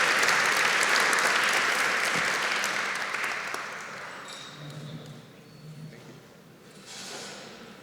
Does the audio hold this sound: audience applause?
yes